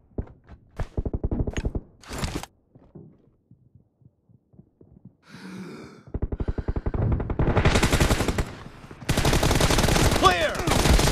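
M416 rifle fire in the mobile game PUBG Mobile comes as rapid automatic bursts separated by short pauses, with a reload-like rattle and a long, loud sustained burst near the end.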